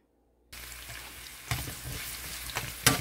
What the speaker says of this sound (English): I'm going to saute first this ginger and also the garlic together